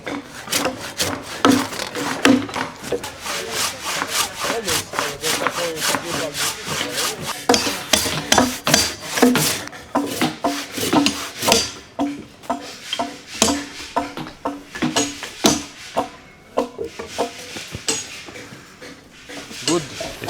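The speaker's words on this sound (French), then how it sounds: "La scie japonaise, donc on va scier en tirant, toujours en tirant comme ça." A Japanese pull saw cuts along a tree trunk with quick, rhythmic rasping strokes, each stroke drawn toward the sawyer, close and clear throughout.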